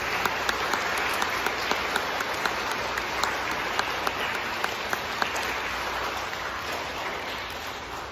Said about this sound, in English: welcome our new principal with a big round of applause